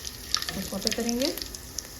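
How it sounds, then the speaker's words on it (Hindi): Cumin, cinnamon and cloves sautéing in hot oil for a dhaba-style chana dal, a light crackling sizzle with scattered pops, steady and close. "इसको सौते करेंगे"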